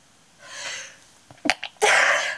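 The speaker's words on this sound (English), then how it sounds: "I had to sit down and I had to sneeze out all of my sneezes" A person sneezes up close: a drawn-in breath, a few short catches, then a loud, forceful sneeze burst that trails off.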